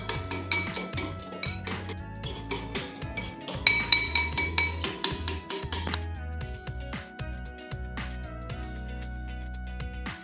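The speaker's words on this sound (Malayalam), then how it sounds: "ഇനി നമുക്കിതിൻ്റെ ക്രീം ഒന്ന് ബീറ്റ് ചെയ്തെടുക്കാം." Cream is whisked in a bowl for an orange red velvet cake, the whisk striking the bowl in quick rhythmic clinks that swell louder midway, over a steady tonal background.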